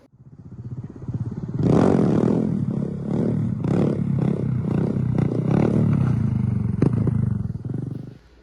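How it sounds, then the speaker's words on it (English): A new Honda Grom motorcycle engine revs up close inside an automotive tint shop, climbing sharply after a quiet start and then blipping in repeated throttle bursts before dropping off at the end. "We got Austin with his new Grom"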